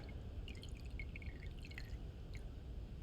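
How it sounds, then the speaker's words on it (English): Water trickles and drips from a container in a light, uneven stream, with small splashes against a low background hum. "gonna go ahead and empty out some of that water"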